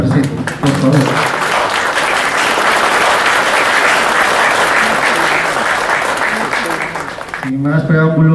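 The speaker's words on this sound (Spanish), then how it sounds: "un aplauso para ustedes mismos que están acá presentes" Loud, dense applause from the crowd at a first art exhibition by a visual artist, a sustained roar of many hands clapping, with a voice speaking briefly at the start and again as it fades.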